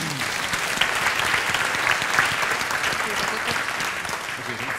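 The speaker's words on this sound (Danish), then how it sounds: "I må gerne klappe af dem." Audience at a Danish culture debate event claps steadily for two guests called to the stage, a moderate, continuous patter of hands with faint voices mixed underneath.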